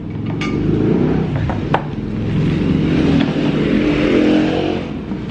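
Road vehicles pass nearby, engines rising and falling as they go by, with a couple of sharp clicks or knocks mixed into the loud, continuous traffic noise.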